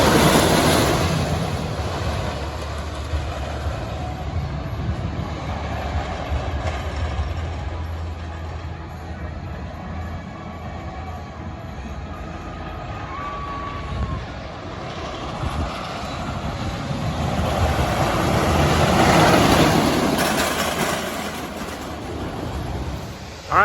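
Comet, the wooden roller coaster at the Great Escape, with a train rolling along the track as a steady, broad rumble that swells near the end, heard from off the ride.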